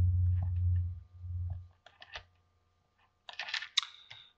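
Keys pressed on a Casio calculator: a low hum gives way to a scattering of small, close clicks and taps, separate at first and then in a quick cluster near the end.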